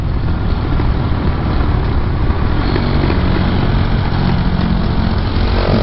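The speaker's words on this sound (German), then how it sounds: "Oh, der Auspuff bollert so schön." A Honda motorcycle engine idles with a deep, steady exhaust burble, close and continuous throughout.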